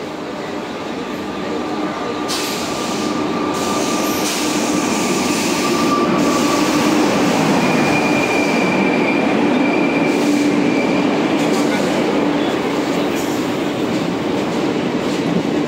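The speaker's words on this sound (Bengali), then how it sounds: "এই যে ট্রেন এসে গেছে, উঠবো এবার।" A train pulls in with a loud rolling rumble, metallic squeals and clatter building and holding steady, with faint voices around.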